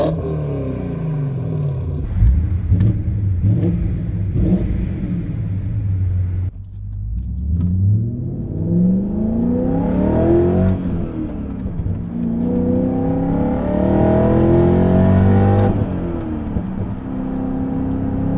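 BMW S62 V8 engine revving, loud and close, rising and falling through several sustained throttle sweeps with a deep rumbling idle between them.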